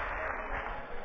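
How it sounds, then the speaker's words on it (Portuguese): Church congregation applauding during a sermon, a dense continuous wash of clapping filling the room, steady and fairly loud. "uma salva de palmas para o Dieguinho."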